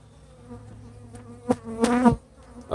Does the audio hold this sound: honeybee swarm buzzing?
yes